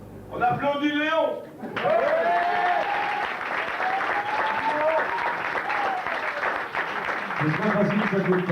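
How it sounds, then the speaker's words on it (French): A café audience at a live concert evening applauds a performer named Léon, with sustained, fairly loud clapping and some crowd chatter following a short spoken line, and a voice speaking over the applause near the end. "On applaudit Léon."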